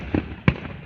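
Fireworks burst in the distance during an outdoor display, giving two short, muffled booms about a third of a second apart against a quiet background.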